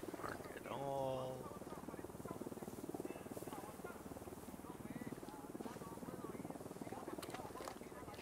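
Helicopter flying in a combat video game, a steady rotor drone running the whole time beneath other game noises, with a brief tonal sweep near the start.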